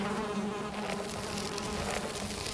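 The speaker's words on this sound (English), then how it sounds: "Oh, and we got beehive." Bees buzzing around a beehive in the video game Valheim, a continuous close, faint droning hum with no talk over it.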